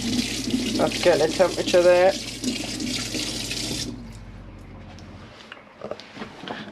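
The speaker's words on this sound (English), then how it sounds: "when your pump's on, you get pressurised water" Pressurised hot and cold water runs from the tap into the sink of a 2015 Chausson Flash 610 motorhome, a steady splashing flow for about four seconds with someone talking over it, then cutting off to quieter room sound.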